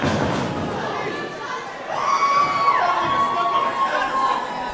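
Wrestling crowd at an IHW Saturday Night Mayhem show cheers and shouts loudly throughout, with children's voices and scattered whistles swelling midway, while a commentator talks over the noise.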